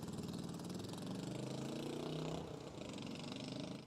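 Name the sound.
loud motorcycle passing by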